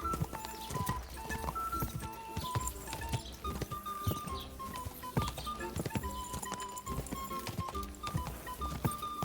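Horse hooves clip-clop in a steady trotting rhythm in the video game Kingdom Come: Deliverance II, close and continuous, with a faint musical tone running underneath.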